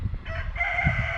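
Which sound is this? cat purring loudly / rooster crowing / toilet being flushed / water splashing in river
rooster crowing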